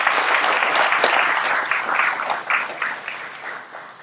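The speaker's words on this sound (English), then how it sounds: "So a huge round of applause for Paul Westlake and Elle Hammond" Conference attendees at a trauma-care anniversary event give a warm round of applause, steady crowded clapping that tapers slightly over four seconds.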